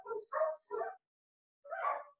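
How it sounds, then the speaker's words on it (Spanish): Dogs bark in a residential neighbourhood, giving three quick yappy barks, then a pause and one more, somewhat faint and off at a distance. "hay muchos perros que se volvieron locos en mi barrio"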